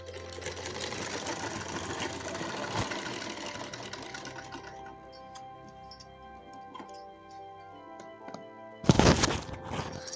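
Sewing machine stitching a salwar, running in a dense steady whir for several seconds, then slowing to sparser ticking clicks before a brief loud burst near the end; no talk.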